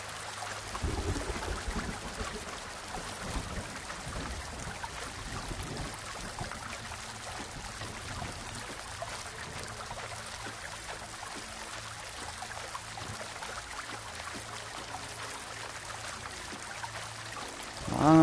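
A flowing river and waterfall in the video game Medieval Dynasty make a continuous, even rush of water throughout, moderately loud and steady with no voices.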